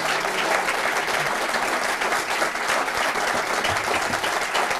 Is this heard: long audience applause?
yes